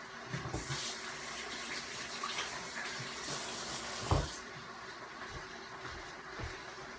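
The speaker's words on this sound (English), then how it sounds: "And I'm just going to rinse my hands off." A kitchen tap runs steadily while hands are rinsed under it, a quiet continuous splash with a few small clunks and knocks close by.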